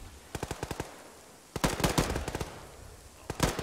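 Bursts of rapid automatic gunfire in an Arma video game session: a short volley, a pause, then a longer, louder burst and a final quick one, sharp and close.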